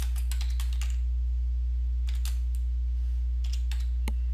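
Typing on a computer keyboard to enter a new event name, with bursts of quick close keystrokes separated by short pauses over a steady low electrical hum.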